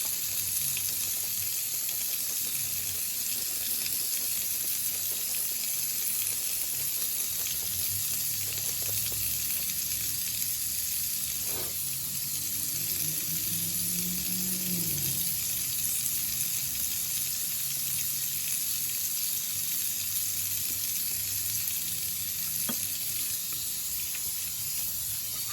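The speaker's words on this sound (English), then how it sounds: "This lather's worked up pretty well, but I need to work into my skin just a little more" Shaving soap lather being worked into skin with a brush during a straight razor shave, a steady close wet hiss and soft squelching that runs continuously at low level, with no talk.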